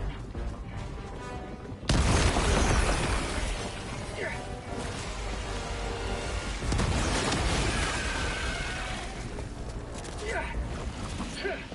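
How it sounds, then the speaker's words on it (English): A thrown grenade exploding in Helldivers 2 sets off a sudden, loud blast that dominates the mix and then gives way to sustained battle noise and further rumbling impacts. "Throwing grenade!"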